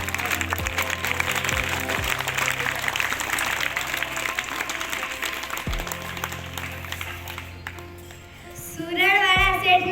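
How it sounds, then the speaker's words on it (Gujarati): An audience at a school felicitation ceremony applauds with a long, dense wash of clapping over a low sustained musical tone, then tails off into a brief tonal melody. "આપને તાળીઓથી વધાવીશું."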